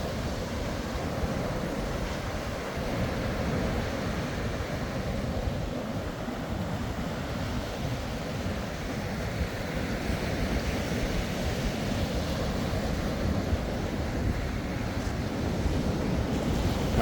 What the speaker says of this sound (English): Those waves coming way up.